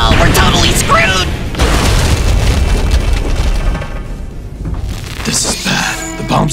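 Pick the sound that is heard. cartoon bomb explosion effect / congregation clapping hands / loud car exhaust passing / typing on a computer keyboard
cartoon bomb explosion effect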